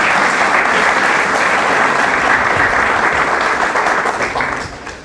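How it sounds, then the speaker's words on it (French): An audience at a book signing ceremony breaks into loud, sustained applause, a dense wash of clapping that continues steadily and then begins to fade at the end. "Je vous demande de l'applaudir très très fort,"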